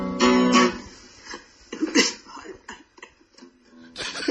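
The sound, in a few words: woman coughing in a played recording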